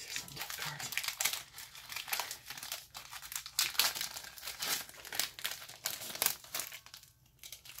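Wrapper of a trading card pack crinkling and crackling as it is torn open, close and fairly quiet, in irregular bursts of crumpling with short pauses in between.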